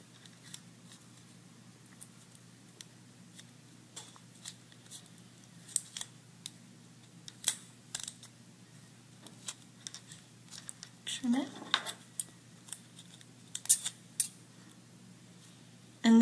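Scotch tape is handled and folded around the tip of a homemade iPad stylus, giving faint, sparse crinkles and small ticks close up over a quiet background hum.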